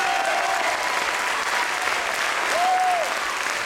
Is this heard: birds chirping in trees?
no